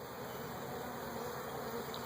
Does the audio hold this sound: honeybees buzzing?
yes